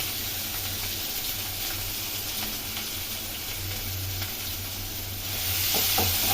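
Steady hiss and crackle of onions frying in hot oil with curry leaves, close and continuous, swelling louder toward the end as they're stirred.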